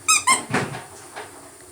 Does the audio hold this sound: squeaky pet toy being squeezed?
yes